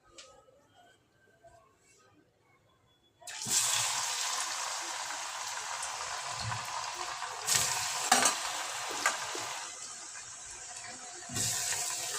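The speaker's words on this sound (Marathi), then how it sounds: "तर मग अशी कोथिंबीरच्या वड्या लावल्या होत्या ना त्या तळते" Coriander vadis drop into hot oil in a large kadai, a sudden loud sizzle after a few quiet seconds that then roars steadily nearby, with brief louder flares as pieces are added.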